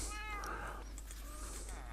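Cats in the Minecraft video game give several short meows in quick succession, faint and set against a low background hum, with a voice partly over them.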